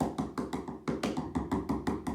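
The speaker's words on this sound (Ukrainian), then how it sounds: "У мене гель для душу. Постуканий по полу." A plastic shower gel bottle is tapped on the floor about a dozen times in an uneven rhythm, with each knock close and crisp and no talk over it.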